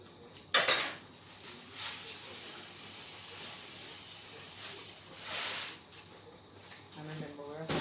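Rice being washed in a pot gives scraping metal clinks and gritty swishing of grains and water, with a few sharper knocks and a faint voice near the end.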